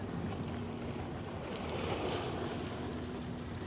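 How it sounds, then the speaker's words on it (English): Water laps and washes steadily against a boat near Governors Island in New York Harbor, a continuous close surf-like rush with wind buffeting the microphone and no talk. "Love huh? the sound of the water."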